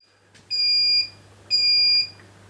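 The 15-minute timer alarm on a Grainfather brewing system gives two sharp electronic beeps, each about half a second long, clear and close with a steady hum underneath.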